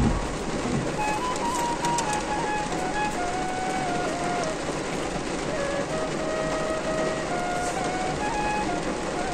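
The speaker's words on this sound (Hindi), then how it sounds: "और बारिश भी हो रही है।" Steady monsoon rain hisses continuously over a low rumble of traffic jammed on a mountain road near Gangotri, Uttarakhand, with faint sustained tonal sounds drifting through the background.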